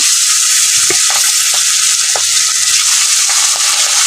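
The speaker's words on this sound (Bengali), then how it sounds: "তার মধ্যে মাছগুলো আমি ভেজে নেব" Small pabda fish fry in hot oil, making a loud, dense, continuous hiss that stays even throughout, with a few faint taps and knocks of a utensil showing through underneath.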